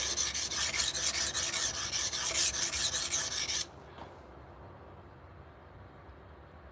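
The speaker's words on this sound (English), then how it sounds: "set our burr on our coarse stone." Knife edge rasping steadily across a coarse whetstone, loud rhythmic scraping strokes for about three and a half seconds, then it stops abruptly and only faint room noise remains.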